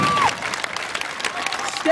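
A street festival crowd at Ottawa's Buskerfest on Sparks Street applauds a busker, scattered clapping and crowd noise running briefly, with a short tonal whistle or squeak at the start and end.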